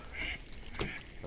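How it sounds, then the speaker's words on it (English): Ducks quacking near a footbridge on an outdoor walk, a brief burst of calls rising over light ambient noise, moderately close and not loud. "A couple of ducks, including one on the walkway."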